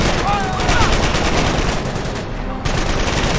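Rapid, dense gunfire from a World War II battle in the video game Company of Heroes, loud, continuous bursts of rifle and machine-gun shots filling the whole moment with a brief dip near the end.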